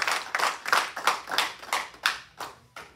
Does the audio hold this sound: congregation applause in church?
yes